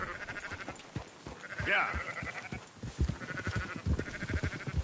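Sheep bleating on a farm in Red Dead Redemption 2, with one clear, wavering bleat standing out midway and fainter bleats around it, over footsteps and movement while someone speaks briefly.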